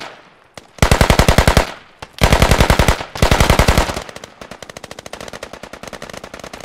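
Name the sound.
M4 rifle gunfire in the video game Squad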